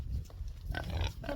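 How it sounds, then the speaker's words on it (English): Pigs grunt low and close on a farm, a few short rough snorting grunts overlapping in quick succession, quiet and muffled with no talk. "Pigs."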